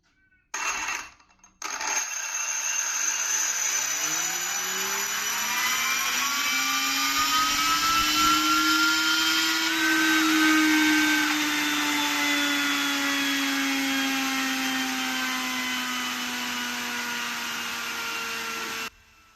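A combat robot's flywheel motor spins up with a rising, sustained electric whine and whirring roar that climbs in pitch and holds loud for many seconds, close and alone.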